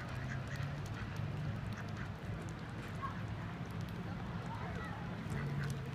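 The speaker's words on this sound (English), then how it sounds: "Oh, are you feeding the ducks?" Ducks quacking and honking as people feed them in a busy outdoor spot, the calls mixed with people talking nearby.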